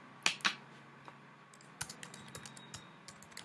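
A computer keyboard being typed on in a short burst, with two louder clacks at the start followed by lighter scattered key taps, close and clear with no talking.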